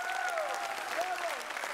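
Applause from a concert audience, steady dense clapping at moderate level, with a sustained gliding voice or tone sounding faintly over it.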